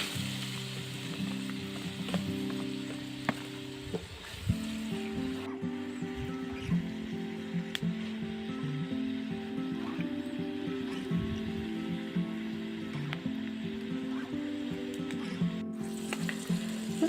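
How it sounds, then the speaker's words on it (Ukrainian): Continuous crackling sizzle of food frying over an open fire outdoors, steady and close, with occasional pops and faint clinks throughout. "Ай, файно шкварчить."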